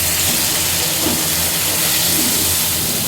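Steady, loud sizzling hiss as chicken is added to a hot pan for a Tamil-style chicken dish, a continuous frying sound with no talking.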